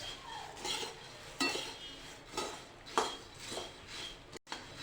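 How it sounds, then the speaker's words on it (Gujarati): Puffed rice is stirred in a pan while dry-roasting until crisp. The spoon scrapes and rustles in regular strokes with light metallic clinks, close and fairly soft, with no talking. "હલાવતા જવાનું છે, નહીં તો નીચેના મમરા કાળા થઈ જશે"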